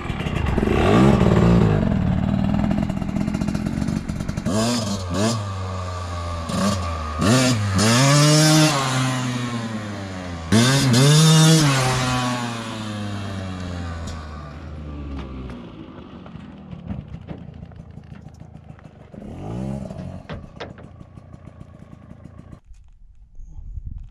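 A KTM EXC-F dirt bike fitted with an FMF exhaust pipe revs up and down repeatedly, loud and close, with rising and falling engine pitch before fading to a lower idle.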